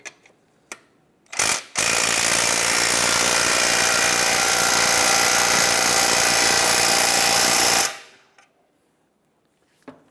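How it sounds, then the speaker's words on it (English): Power tool running on the exhaust tip nut of a 2015-2020 Cadillac Escalade, a loud steady buzzing burst of about six seconds after a couple of short clicks and knocks, ending abruptly into near silence. "You want to go ahead and torque down that nut to about 35 foot-pounds."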